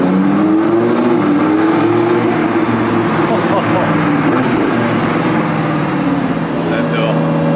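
A Ferrari Daytona SP3 accelerates with its exhaust valves open on Monaco streets, a loud, continuous engine roar rising steadily over about seven seconds, with voices talking over it.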